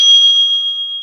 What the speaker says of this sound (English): The timekeeper will be ringing the bell twice